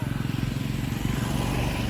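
Heavy road traffic near the foot of Othimalai hill, with motorcycle engines puttering in a rapid steady pulse close by, a continuous low drone throughout.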